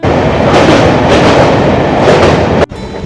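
A new Kanchanjungha 13173 train runs from Kolkata toward Bolpur Santiniketan with a loud, steady, close rumble and rattle that holds for about two and a half seconds, then cuts abruptly to a quieter hum.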